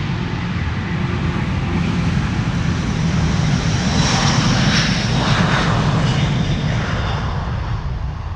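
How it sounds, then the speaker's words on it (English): A Delta Airlines Airbus A330neo takes off from Amsterdam Schiphol Airport with a loud, continuous engine roar that swells and stays strong throughout, heard from outside with no one speaking. "This is Delta Airlines flight 143 to Seattle, Washington,"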